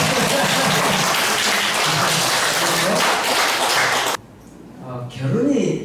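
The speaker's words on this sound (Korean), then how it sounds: "답을 환호와 박수로." A Korean lecture audience cheers and claps for a toast-franchise founder at a university special lecture, a dense wash of applause and voices that cuts off abruptly, followed by someone speaking.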